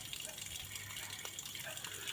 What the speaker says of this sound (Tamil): சைடில் தண்ணி போகிற மாதிரி